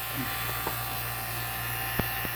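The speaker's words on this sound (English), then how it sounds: "we are just finishing up vacuuming down the system" A vacuum pump hums steadily while evacuating a GREE 3-zone 24,000 BTU mini split refrigerant system, a constant low electric drone with a few faint clicks over it.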